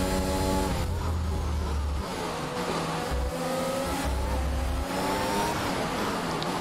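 Formula 1 race car engines from the F1 21 video game roar continuously and loudly, high-revving whine rising and shifting through gears as cars battle through S-curves at the Mexico circuit, with brief lower rumbles underneath.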